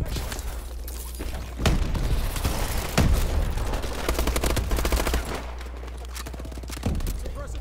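Automatic weapon fire in the video game Call of Duty: Advanced Warfare: loud, dense machine-gun bursts and booming shots overlapping continuously through a chaotic battle, with faint voices in the mix.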